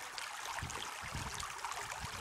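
Water swishing and sloshing through the riffles of a gold pan during panning in a stream, a steady close wash with soft repeated surges and no talk.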